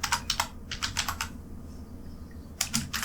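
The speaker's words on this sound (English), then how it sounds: "press enter on your keyboard" Bursts of clicky keystrokes on a computer keyboard, a quick cluster of taps, a pause, then another short flurry, close and fairly crisp with no voices.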